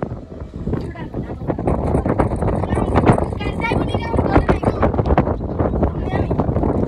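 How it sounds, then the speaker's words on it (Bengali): Strong stormy wind buffeting outdoors, loud continuous roaring gusts with heavy microphone rumble, while people talk over it throughout. "দেখতে পাচ্ছেন কি পরিমাণ বাতাস"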